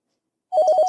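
A phone ringtone from the Dies irae visual novel bursts in after silence, a rapid pulsing electronic trill, loud and close, cut off after about half a second.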